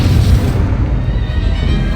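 A Bombarda blasting spell goes off during a duel in Hogwarts Legacy, a loud low booming blast with a rumbling tail that stays dense and sustained throughout, no voices over it.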